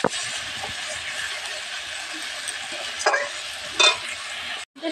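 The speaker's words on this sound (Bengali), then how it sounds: "আমি এবার নাড়তে থাকবো, এইভাবে নাড়তে হবে।" Vegetables with turmeric fry in a pan, giving a steady background sizzle broken by a few scraping strokes of a spoon stirring, ending in a brief dropout.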